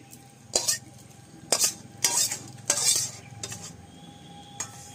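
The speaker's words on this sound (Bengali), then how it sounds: "তরকারিটা এবার ঢেলে দিচ্ছি।" Fig and rohu fish curry tipped out of a cooking pan, with a spoon scraping and knocking against the metal in several brisk strokes and a faint sizzle underneath, close and fairly loud.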